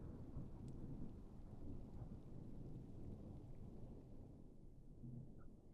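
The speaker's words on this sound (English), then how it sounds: "the special effects that I added in also help sell the atmosphere again for the storm and the spookiness" A thunderstorm used as an added sound effect for a spooky horror scene gives off a continuous low rumble of thunder over steady rain, moderately quiet and without voices.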